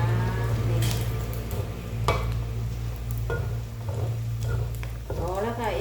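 Pork rinds deep-frying in a pan of hot oil give a steady bubbling sizzle throughout, with occasional stirring scrapes and utensil clinks close by and a low hum underneath.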